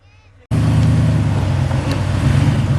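A rock crawler 4x4 climbs up and out over rocks, its engine starting suddenly and holding a loud, close, steady roar with low rumble throughout, with no talk.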